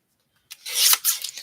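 Card stock being trimmed for handmade cards, a short dry rasping and rubbing stroke that starts after a half-second of silence and runs in two close swells, near and fairly loud with no talk.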